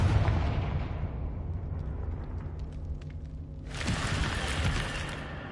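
Rumbling, explosive roar from a Confringo fire spell in Hogwarts Legacy, a continuous blast of low booming noise that surges again with a bright crackling burst near the end, with no voices.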